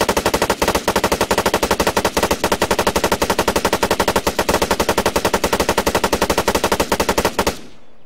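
A light machine gun in Arma 3 Apex, the LMG variant of the CR with a 100-round box firing 5.8 mm rounds, lets off one long full-auto burst of rapid, evenly spaced, loud close shots that stops sharply near the end.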